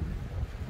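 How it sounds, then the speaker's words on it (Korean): Sea waves wash against a breakwater at Haeundae beach in Busan, a low, rumbling surge mixed with wind buffeting the microphone, steady and fairly close, with no talking. "방파제 파도 소리 들어보세요"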